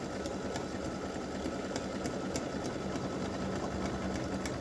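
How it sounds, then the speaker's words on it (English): An embroidery machine sews a triple stitch in the hoop for a one-piece in-the-hoop Valentine roses mug rug, giving a steady, continuous mechanical hum with faint regular clicks, quiet and alone. "it is going to do a triple stitch just to the inside of this last stitch that we already did"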